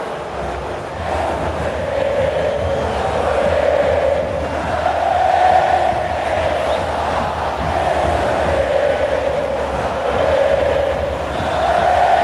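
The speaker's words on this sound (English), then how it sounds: "it is a delirious crowd here at the moment who see Contepomi add another 2 points." A large crowd at a 2010 Argentina vs France rugby test match roars continuously, swelling in repeated waves of loud cheering that fill the stadium, with no talk over it.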